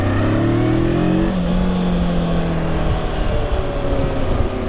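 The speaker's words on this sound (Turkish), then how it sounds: "Gazı bir açayım." A Voge 525 DSX motorcycle engine climbs in pitch as the throttle opens, then settles into a steady loud riding drone with wind rush. It is heard up close from the rider's position.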